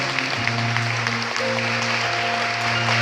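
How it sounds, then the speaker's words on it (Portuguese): A church congregation applauds during a Portuguese-language worship service, a steady wash of clapping filling the room throughout, with a sustained low tonal hum, like music or organ, running beneath it. "Aplauda a palavra de Deus. Mas aplauda com bastante alegria."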